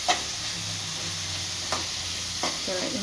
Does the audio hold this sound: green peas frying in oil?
yes